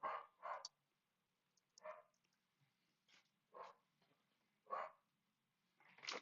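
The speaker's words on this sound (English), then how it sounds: "Dog in here going batshit crazy." A dog barks in loud, sharp bursts indoors, about six separate barks spaced irregularly across several seconds, with quiet gaps between them and no talk.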